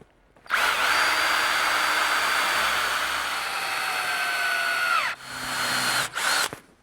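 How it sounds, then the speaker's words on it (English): A power drill bores a screw hole in old pine wood: a loud, sustained whine that sags in pitch as the bit bites, cuts out, then returns in two quick bursts. "I'll drill a hole for a screw"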